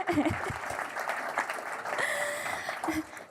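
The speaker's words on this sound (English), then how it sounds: "Everyone, clap their hands." An audience at an event claps as a speaker on a microphone leads the thanks. The applause is moderate and spread through the room, and the speaker's voice keeps talking over it.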